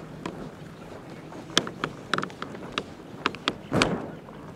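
Tensioning a windsurf sail's downhaul with a rigging tool on a Hot Sails Maui SuperSpeed speed/slalom sail: a quiet bed of rustle broken by sharp clicks, creaks and taut sailcloth snaps, ending in a louder stretching crinkle, close by.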